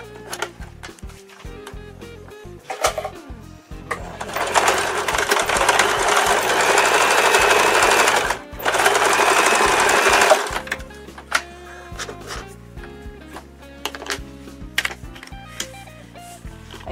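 Sewing machine stitching the side seams of lace panties for a cloth doll, with a sustained loud run of rapid stitching in the middle between shorter bursts and pauses, including brief back-stitching at the start and end.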